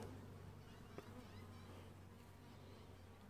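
Honeybees buzz steadily in a dense, continuous drone as they come and go at a beehive fitted with a top feeder, with one faint tap near the start and no talking.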